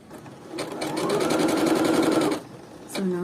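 Bernette sewing machine running a pico rolled hem stitch along curved fabric, a steady fast buzzing whir for about two seconds, close and clear, with a brief start and stop.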